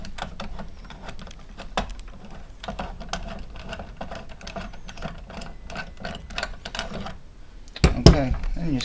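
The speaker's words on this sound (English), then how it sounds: "an 11mm socket with an extension. Again, I loosened this a little bit earlier, so just to speed the video up. So we're going to spin this right off" An 11mm socket on an extension spins a stock bolt free on a Stoeger STF 3000 shotgun, giving a steady run of rapid close ticking and ratcheting clicks, ending in a louder clunk and rattle.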